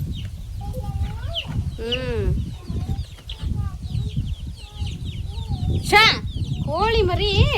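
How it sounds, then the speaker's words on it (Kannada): Chickens cluck and chirp in bursts with rising and falling calls, near and fairly loud, during a household new-moon puja. Sharp cries are scattered among them, and people talk throughout. "ಕೋಳಿ ಮರಿ"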